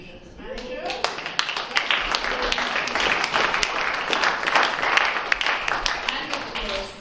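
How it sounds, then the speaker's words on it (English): A crowd of office staff applauds the operations manager at a book launch, a dense, sustained burst of clapping lasting several seconds, close and fairly loud, with voices mixed in beneath it. "I want you to give a big round of applause to this lady"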